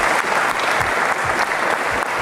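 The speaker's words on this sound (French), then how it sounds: "On l'applaudit" A crowd at a belly-flop diving contest applauds loudly and continuously in a thick, even wash of clapping.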